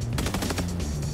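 Rapid gunfire from a Helldivers video game match, dense overlapping shots in a sustained burst with a steady low rumble underneath and no talking.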